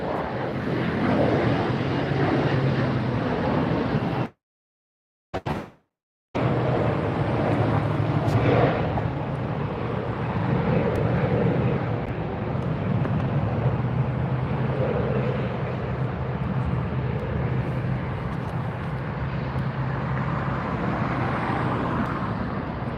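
An American Airlines Airbus A321 in US Airways retro livery roars steadily at LAX, a loud broadband jet rush with wind buffeting that holds for the whole stretch, briefly cut out by a short dropout.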